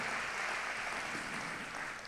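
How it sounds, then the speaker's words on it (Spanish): A church congregation applauds together, a dense, steady wash of clapping that holds evenly throughout at moderate volume, with no voices rising above it. "Dale un aplauso al Señor"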